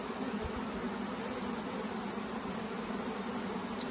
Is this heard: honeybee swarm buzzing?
yes